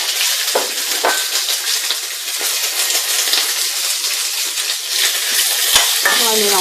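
Chopped onion and garlic cloves frying in oil for an Indian tamarind sauce, a loud continuous sizzle broken by clinks and scrapes of a stirring spoon against the pan, with a metallic ring near the end.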